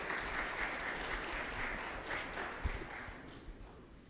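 An audience at a health and education policy presentation claps steadily, a soft, fairly distant wash of applause that tapers off toward the end.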